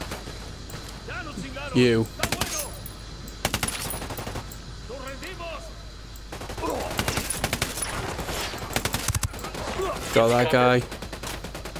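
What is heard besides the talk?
gunfire in the video game Ghost Recon Wildlands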